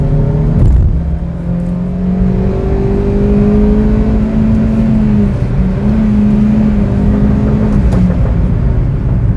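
A 2014 Hyundai Xcent accelerates steadily on the road, its engine heard close from inside the cabin, the note rising through gears with a brief dip at a shift.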